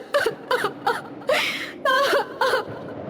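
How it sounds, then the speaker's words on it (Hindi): A girl whimpers and sobs in short, broken bursts, a close, wavering cry with several gasping breaks, heard alone in an eerie horror setting. "उसे रोने की आवाज सुनाई देती है।"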